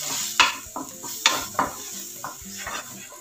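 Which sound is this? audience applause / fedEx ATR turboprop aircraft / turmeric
turmeric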